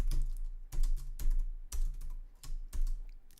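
Rapid typing on a computer keyboard while entering an Excel formula: close, crisp, irregular key clacks with occasional heavier thumps, steady throughout and with no voice over it.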